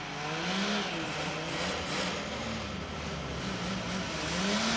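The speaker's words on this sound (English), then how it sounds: "this once familiar sound of a Holden 6 warming up is rapidly becoming a thing of the past" A Holden six-cylinder engine warms up on a factory production line, a steady mid-pitched drone with slight rising and falling revs, heard alone throughout.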